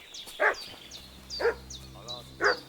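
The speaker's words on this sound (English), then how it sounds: "What's that dog making such a fuss about?" A dog barks in a medieval village setting in Kingdom Come: Deliverance II, with three sharp, loud barks spaced about a second apart over a quiet background hum.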